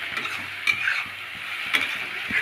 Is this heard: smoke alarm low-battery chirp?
no